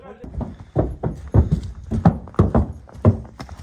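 A mare's hooves clip-clop as she is led out at a farm selling strong mares, a series of close, clear hoof strikes in an uneven walking rhythm, with someone talking over them.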